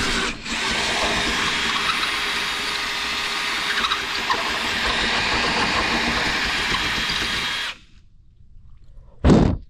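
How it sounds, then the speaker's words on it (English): A power drill enlarges bolt holes in a metal mount for LED fog lights, whining loudly and steadily for about eight seconds before stopping, followed by a short final burst of drilling. "we're going to have to drill these out just a little bit so our bolt that goes to our fog lights will fit in there"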